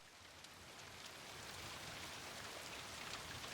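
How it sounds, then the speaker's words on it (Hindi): Heavy rain pouring down in a steady, dense hiss that holds constant and slightly builds throughout, with no voices. "बड़ी जोरों की बरसात हो रही है आज"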